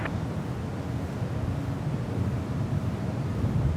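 Strong, gusty wind at San Francisco airport, a steady low roar and rumble buffeting the microphone without a break.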